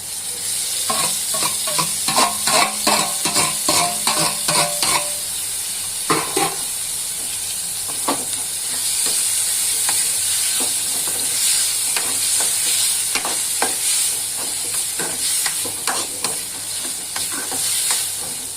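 Tomatoes fry in a pan on a home stove, sizzling and hissing steadily while a utensil scrapes and stirs in repeated strokes, close and clear with no talking.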